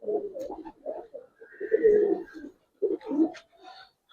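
Giribaz pigeons, a flock of five males including a black one, cooing close by in short throaty bursts with brief pauses between calls, loud and clear with no talk.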